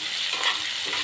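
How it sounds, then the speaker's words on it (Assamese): Onions frying in hot oil until golden brown, a steady close sizzle with soft stirring hiss running through the whole short moment and no voices. "পিঁয়াজখিনি দি মই এতিয়া অকণমান ফ্ৰাই কৰি ল'ম"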